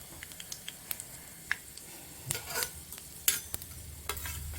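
Spices and ginger garlic paste being stirred in a pan while cooking a prawn dish, soft sizzling under repeated light scraping and clicking taps of a spoon, close and fairly quiet.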